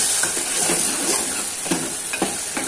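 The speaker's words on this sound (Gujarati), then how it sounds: "હવે આપણે હલાવી નાખશું" Spiced vegetable masala for a gravy khichdi is stirred in a hot pan: a loud, close sizzling hiss carries under repeated scraping strokes of a spoon across the pan bottom.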